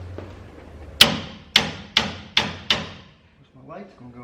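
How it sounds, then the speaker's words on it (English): Five sharp hammer blows ring out at a steady pace during a leaf spring replacement on a 1978 Ford, each crisp, close and loud, followed by faint rustling. "Oh, you know what I need? I need my hammer."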